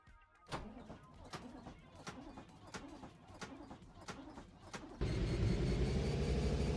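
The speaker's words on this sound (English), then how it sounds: "Engine started." A V8 car engine in the RevHead video game cranking with a rapid series of rhythmic starter pulses, then catching and settling into a loud, steady idle rumble.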